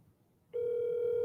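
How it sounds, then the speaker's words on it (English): An incoming telephone call: after a quiet moment, a loud steady electronic phone tone starts abruptly and holds without a break, heard alone. "Oh, I guess the phone called me back."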